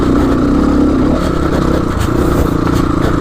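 A GPX FSE300R motorcycle rides over rocky terrain, its engine droning loud and close with rough, clattering bumps and scrapes from the rocks riding on top, and nobody speaking.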